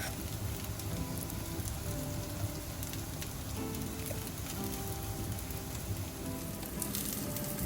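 Poha and potato cutlets shallow frying in oil in a pan, a steady close crackling sizzle with dense popping that runs evenly throughout with no talk.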